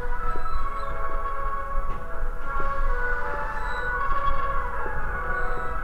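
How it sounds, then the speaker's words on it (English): Ghost train ride in the video game The Complex: Expedition, a steady droning rumble with tonal whines and faint siren-like wails running continuously throughout, fairly loud with no talking. "Ghost train."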